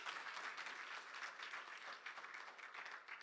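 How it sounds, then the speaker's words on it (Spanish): A church congregation breaks into sustained applause, a dense even wash of many hands clapping together at moderate distance, steady for several seconds. "Vamos, levante un aplauso al Señor."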